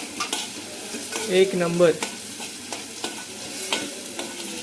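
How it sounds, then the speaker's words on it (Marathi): Mutton brain bheja fry cooking in a ground masala paste, with a continuous close sizzle and scattered scraping stirs in the pan; a voice speaks briefly over it near the middle. "वाटण परतून घेतल्यानंतर आपल्याला लगेच भेजा फ्राय टाकायचं आहे."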